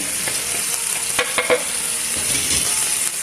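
A calamansi-and-vinegar chicken marinade poured into a hot pan over a browned whole chicken, giving a loud, dense sizzle with a few sharp bursts and scraping stirs around the middle.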